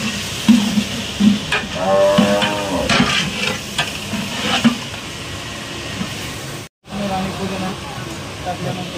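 Pulao with carrots being stirred in a pan, with scraping and soft sizzling under someone talking throughout and a brief dropout near the end.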